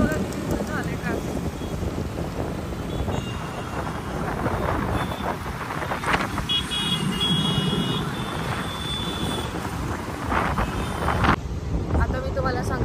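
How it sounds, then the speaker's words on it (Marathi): Busy road traffic in Bagoli, a continuous wash of passing vehicles and engine rumble with wind buffeting the microphone, under someone talking. "इकडे तर बघा किती झाले ट्रॅफिक."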